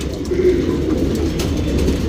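Pigeons coo steadily at close range among a flock of birds kept for racing and flying, a low continuous murmur with no speech.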